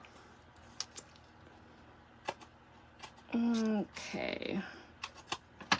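Paper being trimmed for slimline card making: a few sparse, faint snips and clicks spread across the clip, with a short spoken word in the middle.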